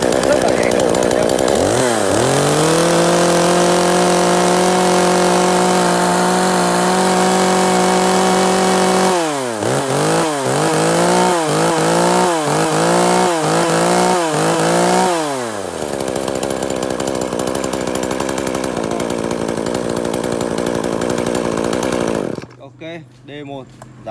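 Used Japanese chainsaw being test-started: the two-stroke engine fires, idles steadily, then is blipped through a series of rhythmic revs before settling and cutting off, loud and close.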